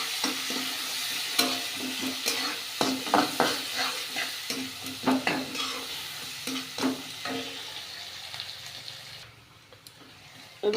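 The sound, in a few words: garlic and onion frying in a pan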